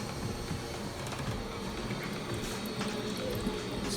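A toilet tank refilling after a broken toilet is replaced: a steady, quiet hiss and trickle of water running without pause, with no voices.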